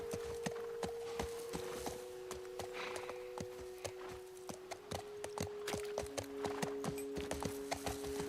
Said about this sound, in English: Absolutely wild bringing the horse inside.